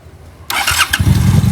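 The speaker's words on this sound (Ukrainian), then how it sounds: "Запуск на гарячу добре. два з ключа." A 2013 Honda VT750S motorcycle engine starting hot: a quiet lead-in, then the starter whirs and the engine catches loudly, settling into a deep, steady idle rumble close by.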